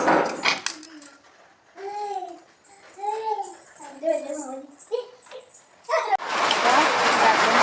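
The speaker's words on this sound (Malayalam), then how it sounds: "നല്ല മഴ പെയ്യുന്നുണ്ട്" A voice speaks over a quiet background, then a loud, dense rush of heavy rain sweeps in and fills the last moments.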